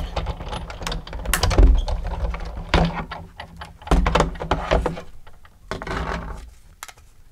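A die cutting machine cuts a leaf shape through paper, giving rolling mechanical grinding and thunking passes that rise and fall in a few loud surges, close by with no talk.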